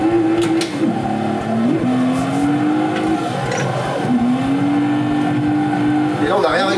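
A drifting car in the Assetto Corsa racing game on a MOZA R21 simulator, its engine note droning loud and steady, sliding down and climbing back up in pitch as the throttle is worked, with squealing tyres over the top.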